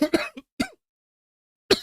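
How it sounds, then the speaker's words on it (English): A person coughs three times in quick bursts, the first a double hack, then a single cough and a final cough after a pause, close and fairly loud with no talk. "I've got this horrible cough."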